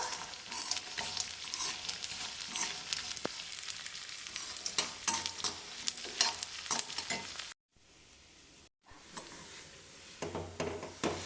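Edible gum (dink) frying and puffing up in a pan of hot fat while being stirred, a steady crackling sizzle with a brief drop to quieter hiss partway through.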